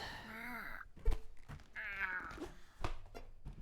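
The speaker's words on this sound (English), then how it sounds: "Cats make many a noise." Cats in the video game Night in the Woods give two drawn-out, wavering meows, loud and close, separated by a dull thump and followed by softer knocks.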